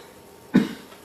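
A single sharp cough bursts out close by in an otherwise quiet moment, brief and throaty with a short tail.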